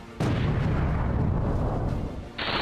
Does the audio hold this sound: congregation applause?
no